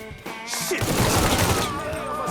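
Gunfire in the Mafia III game, a loud, dense burst of shots with crashing impacts that swells and carries on for a couple of seconds.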